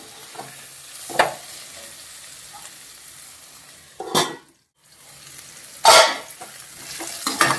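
Okra frying and sizzling in a pan, a steady broadband hiss broken by a few louder bursts as it is stirred, with one brief quiet gap midway; no talking.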